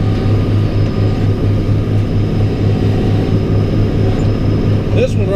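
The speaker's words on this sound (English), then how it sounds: "I've been using the 6640 and the Teagle straw blower on all the jobs that I've been doing" A John Deere 6640 tractor runs a Teagle straw blower, giving a steady, loud engine drone with a strong pulsing hum that holds evenly throughout, close by and continuous.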